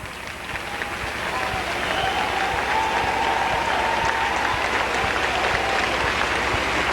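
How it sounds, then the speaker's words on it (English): A large audience at the Miss Oklahoma pageant in 1998 claps steadily, the dense applause swelling slightly and holding for several seconds, loud and close. "please stand so we can give you our applause"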